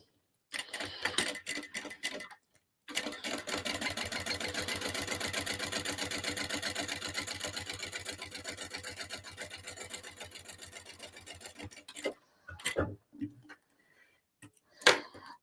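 A sewing machine top stitches bag strap connectors, running in one long steady burst of rapid needle clatter for about nine seconds, then a few short stitching spurts and clicks close by, with no talk.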